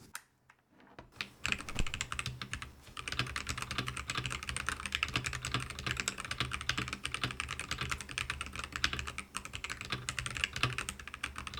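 Steady, fast typing on a budget mechanical rapid-trigger gaming keyboard, a dense run of clacky keystrokes close up that continues without pause after a brief silent start.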